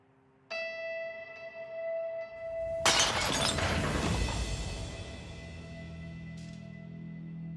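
A porcelain figurine falls in a home and shatters with a sudden loud crash, shards scattering and tinkling for several seconds afterward, preceded by a faint steady ringing tone.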